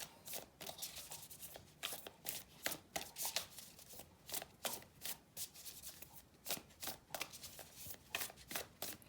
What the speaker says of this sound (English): let me pull some guidance cards